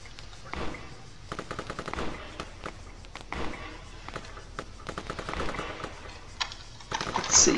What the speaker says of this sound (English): That sounds an awful lot like a sniper rifle or something.